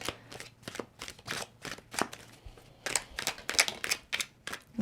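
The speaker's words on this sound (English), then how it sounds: "I'll give it a couple more shuffles." Tarot cards are shuffled in quick repeated riffles and slaps, a close, crisp papery rhythm of about a dozen bursts with brief pauses, no talking.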